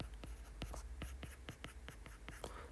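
Pen or pencil scratching a handwritten calculus limit formula during a math lecture, a steady series of quick strokes and taps at close range, fairly faint, with no talking.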